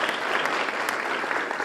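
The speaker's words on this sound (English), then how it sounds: "We can clap for them." Audience clapping at a business award ceremony, a brief burst of steady, dense applause from a seated crowd, close and moderately loud.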